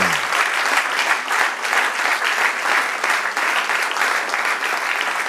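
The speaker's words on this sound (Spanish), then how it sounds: "Denle un aplauso, Señor." A congregation at a church service claps for the Lord in a sustained, even wash of applause that stays loud and near throughout, with no talking over it.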